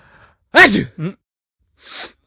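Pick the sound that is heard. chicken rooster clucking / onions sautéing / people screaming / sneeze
sneeze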